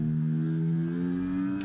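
A Formula 2 race car in F1 23 revs hard at the race start, holding a steady, loud engine drone at high RPM with no talk over it.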